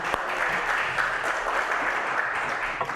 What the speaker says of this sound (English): Let's give Morty a round of applause.